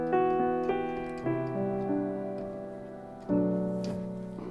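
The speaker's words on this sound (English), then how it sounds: "I've loaded the Vienna Concert Grand from Complete 7" Vienna Concert Grand piano sample played dry with no reverb, a few sustained chords and single notes struck slowly at moderate volume, each decaying cleanly, heard alone.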